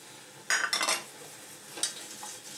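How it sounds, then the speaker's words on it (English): Flour is stirred into melted butter in a pan: a few soft metallic scrapes and clinks of a utensil against the pan over a faint sizzle, with quieter moments between strokes. "then you add the flour, and mix it into the butter."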